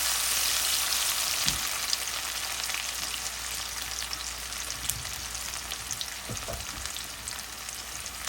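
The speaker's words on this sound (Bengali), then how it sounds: "পেঁয়াজটাকে একটু হালকা ভেজে নেব" Chopped onion fries in hot oil for an ilish and taro stolon curry, a dense continuous sizzle with a few soft stirring knocks, close and steady, no talking.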